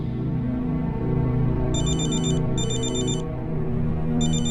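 A phone rings in a dramatized scene, repeated electronic ringtone bursts over a steady low background hum, no voices.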